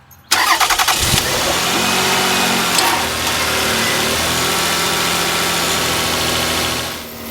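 A 1997–2001 Lexus ES300 with a Toyota V6, mid-radiator replacement, cranks briefly and catches, then settles into a loud, steady run close by with no talking.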